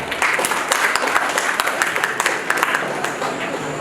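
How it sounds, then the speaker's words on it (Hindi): Enthusiastic clapping at a personality development seminar in a technology institute, steady crowd applause lasting several seconds with a faint voice underneath. "एक बार राहुल के लिए जोरदार तालियां।"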